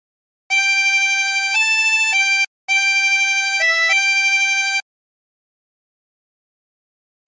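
Chromatic harmonica playing a short, slow phrase of the hymn Nearer My God to Thee, sustained, reedy notes stepping up and down in pitch, with one brief pause partway through.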